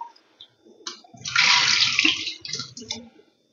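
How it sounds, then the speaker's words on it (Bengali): Hilsa fish rinsed under running water, a steady splashing rush that swells for about two seconds in the middle, with soft clatter and handling noises before and after and no talking. "ইলিশটা ধুয়ে নিলাম, দুবার ধুলাম"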